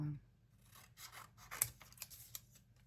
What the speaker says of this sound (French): j'aime pas trop ces ciseaux.